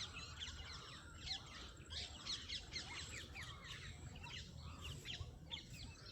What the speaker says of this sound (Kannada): ಈ ರಾಗಿ ಮರದಲ್ಲಿ ಸುಮಾರು ಪಕ್ಷಿಗಳಿದೆ.